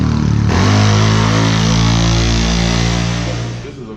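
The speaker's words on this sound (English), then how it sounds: "Listen to that RJWC exhaust scream at you." A CFMOTO CFORCE 600 ATV with an RJWC aftermarket exhaust revving hard, a loud, rough, sustained engine roar heard close that holds for a few seconds and then begins to fade.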